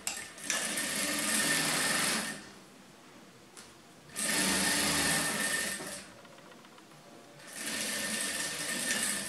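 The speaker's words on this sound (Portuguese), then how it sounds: "Então eu venho aqui e vou costurar isso aqui." Sewing machine stitching a folded twill fabric strip, running in three bursts of rapid mechanical whirring separated by short quiet pauses, close and clear with no voices.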